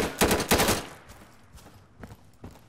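Rapid bursts of AK-47 fire in the tactical shooter Insurgency, several loud close shots clustered in the first second, then a few sparser, fainter shots later.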